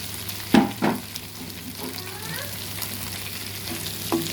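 Shredded cabbage hits a hot pan for restaurant-style chicken fried rice: two quick loud splats, then a steady, close oily sizzle that fills the rest of the moment.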